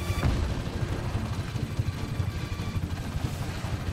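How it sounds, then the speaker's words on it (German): Dense, rolling gunfire and explosive booms from the open-world action game Just Cause 3, a steady loud barrage with no clear gaps and no voices. "Die Schüsse."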